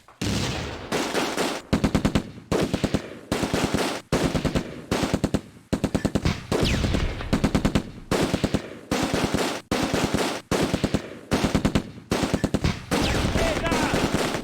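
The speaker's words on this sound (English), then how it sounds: "They got the machine gun." Machine gun fire in the WWII strategy game Close Combat: A Bridge Too Far, loud repeated bursts of rapid shots separated by brief pauses, continuing for the whole stretch.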